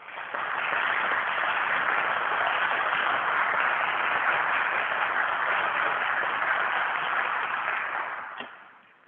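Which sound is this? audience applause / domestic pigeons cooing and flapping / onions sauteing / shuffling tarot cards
audience applause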